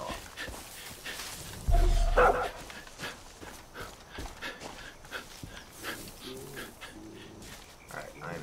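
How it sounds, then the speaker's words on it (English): A dog in Far Cry 5 gives a loud bark burst that rises over game sound, followed by fainter panting and whimpering noises through the rest of the stretch. "Either that or it's still the dog."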